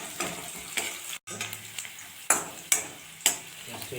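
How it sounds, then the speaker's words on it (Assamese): Onion frying with spices in a pan for a potato dum curry with peas, a steady close sizzle broken by sharp scraping stirs, with one brief dropout near the middle. "আৰু অলপ মচলাকৈ ভাজি ল'ম পিঁয়াজটো।"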